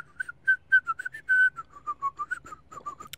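Someone whistles a short melody up close, a string of clear distinct notes with a few held longer, no talking.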